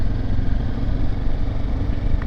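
A loud, steady motorcycle engine rumbles continuously up close while riding on the Transfăgărășan road, with a low throbbing drone and no voices.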